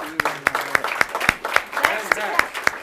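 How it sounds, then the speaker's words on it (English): A small audience claps for panelists after a climate and security discussion, with sparse, distinct handclaps at a fairly even rhythm close by, and faint voices in the background. "Round of applause for our panelists."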